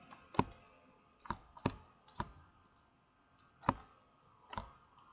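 A computer mouse clicks sharply during 3D modelling work, about eight crisp clicks spaced irregularly in a quiet room, close and clear.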